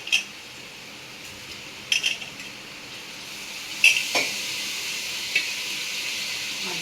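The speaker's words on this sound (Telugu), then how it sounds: "మటన్ వేసేసి ఒకసారి మంచిగా మిక్స్ చేసుకున్నాం" Mutton stirred into ginger-garlic-onion paste in a pan, a steady soft sizzle and hiss with a few brief scraping clinks of the spoon against the pan.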